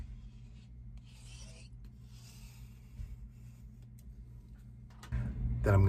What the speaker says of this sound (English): I usually run over it with some kind of a flat, a credit card, or this is a squeegee